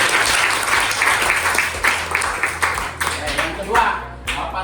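Classroom applause, a group of students clapping together in a brisk, fairly loud burst that runs the whole time and thins toward the end.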